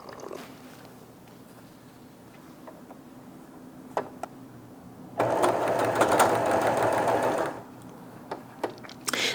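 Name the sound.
sewing machine sewing Liberty fabric quilt strips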